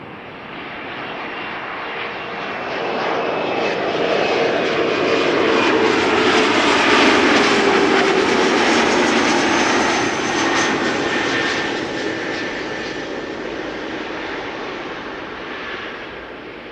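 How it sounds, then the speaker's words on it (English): Lufthansa CRJ 900 regional jet landing at Amsterdam Schiphol, its engine roar swelling as it approaches close by, peaking mid-pass, then easing off while still loud. "Lufthansa flight 2302 arriving from Munich"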